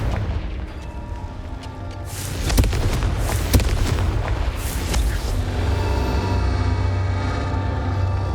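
Booming blasts of the Confringo spell in Hogwarts Legacy go off in a loud burst around the middle, sharp bangs over a rumbling low roar that lingers afterward, no talk.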